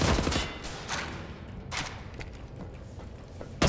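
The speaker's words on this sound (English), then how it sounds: "Assault rifle!" Rapid automatic fire from an assault rifle in the shooter game Wolfenstein: The New Order, several short bursts of sharp cracks spaced over a few seconds at moderate level.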